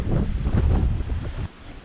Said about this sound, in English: Breeze is still blowing straight down this bay.